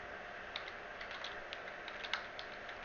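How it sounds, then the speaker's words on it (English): Light, quiet keystrokes of someone typing code on a computer keyboard, a few scattered clicks standing out over a steady hiss with no talking. "we're just going to type current size"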